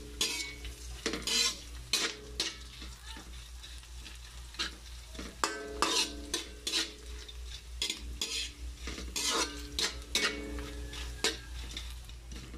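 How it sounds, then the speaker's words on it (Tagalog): Anchovies sauté in a pan with onion, tomato, garlic and a little ginger, giving a continuous sizzle broken by repeated scraping stirs and clinks of a utensil against the pan. "igisa dun sa ano, sa sibuyas, kamatis at bawang na may kaunting luya."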